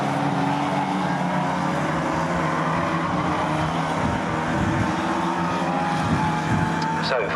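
Stock rod race cars circling the oval at Swaffham Raceway, a continuous roar of several engines whining and droning together under steady commentary.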